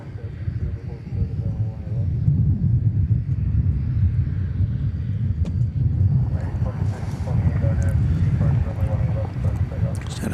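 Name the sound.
Delta Airbus A220 airplane landing at DFW airport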